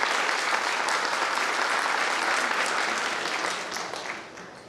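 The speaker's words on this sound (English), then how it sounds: "Can we give them a hearty clap?" A crowd of parents and guests claps at a kindergarten annual school concert, a thick, continuous wash of applause that holds strongly and then tapers off in the final second.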